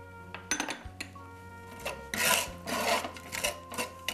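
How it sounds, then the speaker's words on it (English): Garlic sauteing in olive oil in a skillet while a utensil scrapes brown bits off the pan bottom, giving close rasping strokes in uneven bursts over a faint sizzle. "We'll saute for a minute or so, scraping any brown bits from the skillet."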